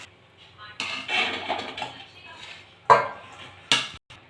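Fried rice tipped from a pan onto a plate: scraping and clattering of a utensil against metal, with a couple of sharper knocks near the end, while a person talks quietly underneath.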